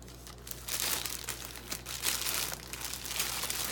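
Plastic packaging crinkles and crackles close by while Rockville speakers are unboxed, a loud irregular rustle in repeated bursts lasting a few seconds, no talking over it.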